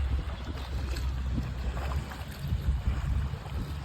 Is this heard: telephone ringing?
no